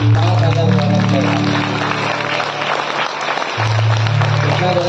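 Clapping from a church gathering rattles on steadily under a loud sustained tone and some voices, the applause mixed and continuous for several seconds.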